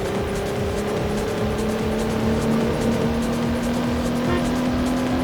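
A V8 supercar engine drones steadily in the racing game Need for Speed: High Stakes, holding a continuous loud hum with a slowly rising pitch and faint tire noise underneath.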